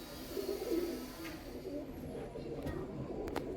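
Pigeons coo softly in a few low, throaty phrases against a faint background hum, with one bird sounding slightly closer.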